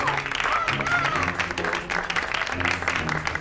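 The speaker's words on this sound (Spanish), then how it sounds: "¡Aplausos, por favor!" Studio audience applause on the Violetta television set, dense clapping that continues steadily throughout, mixed with voices and some tonal music-like sound.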